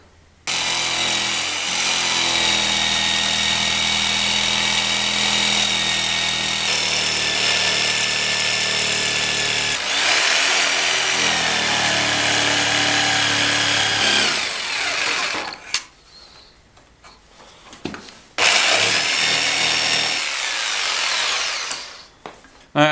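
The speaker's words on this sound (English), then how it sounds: "I'm just going to take a chunk out of the apron" A power tool cuts a chunk out of a wooden workbench apron, a loud, close, continuous whine in long bursts, pausing briefly between cuts and then starting up again.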